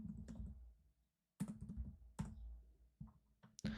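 Keys tapped on a computer keyboard while a command is entered in the Windows command prompt, a few scattered bursts of clicks with short pauses between them, close and fairly quiet.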